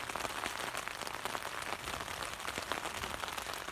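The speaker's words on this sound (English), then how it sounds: "Proper raining now." Heavy rain drums on a tent during a solo winter wild camp, a dense, even patter of drops hitting the fabric close by, continuous throughout.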